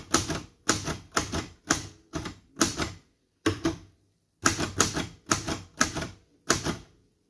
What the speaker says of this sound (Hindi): अब मैं एक बार फिर से इस पर कुछ टाइप करता हूँ